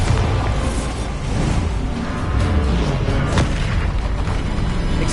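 Bombarda explosion spell cast in Hogwarts Legacy, heard as a continuous loud, rumbling blast with dense booms and crackling bursts lasting throughout.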